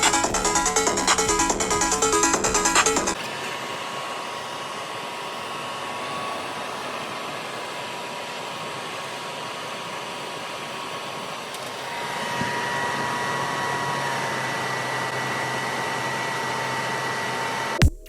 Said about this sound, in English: this dust collector is very quiet for the suction power that it has